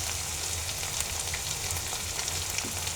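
Spices frying in oil for a hilsa and pumpkin curry, a dense, even sizzle and crackle filling the clip at close range, with no talking.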